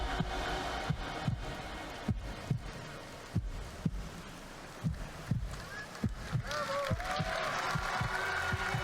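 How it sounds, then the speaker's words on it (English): Slow heartbeat closing out a song, roughly a dozen soft low thumps at a steady pace, with faint crowd noise and airy tones rising toward the end. "Interesting to end with a heartbeat."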